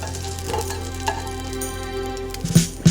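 Lightly breaded, tempura-like shrimp pan-sear in a shallow layer of oil in a Gotham nonstick pan, giving a steady close sizzle with a couple of sharp clicks near the end.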